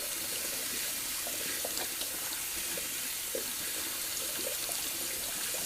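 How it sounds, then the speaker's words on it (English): Steady hiss of tap water running into a sink while a shaving brush is rinsed, constant and moderately faint, with small splashes and no voices. "Let me rinse out my brush real quick."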